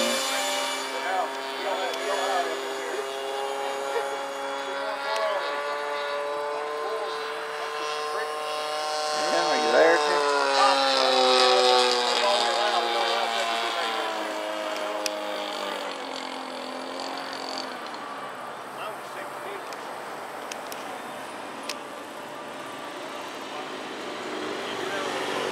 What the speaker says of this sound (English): Freewing F-16.